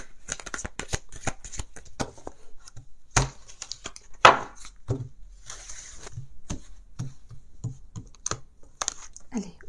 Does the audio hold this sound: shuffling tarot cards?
yes